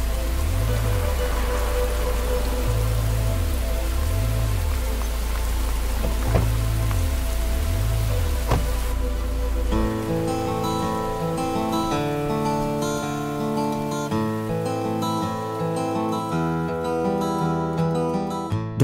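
Steady rain falls over city streets at night as a continuous broadband hiss, with a deep throbbing low tone beneath it and music swelling in partway through.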